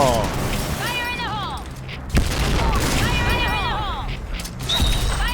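Grenade blasts and gunfire in the Point Blank online shooter, with a sharp boom near the middle and another near the end over steady battle noise, while someone talks over it.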